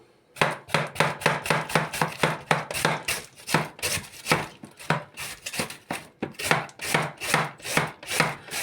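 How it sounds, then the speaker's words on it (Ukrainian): Cabbage being shredded for Ukrainian sauerkraut, fast rhythmic strokes in a steady run of about two per second, loud and close with brief pauses between bursts. "І терка для, для капусти. Я отакою користуюсь, мені зручно. І поїхали. Переходимо до шинкування."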